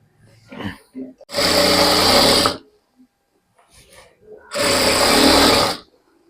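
Two bursts of a sewing machine stitching elastic onto cigar pants, each a loud, steady run of about a second or more, with short pauses and a few quiet handling noises between them.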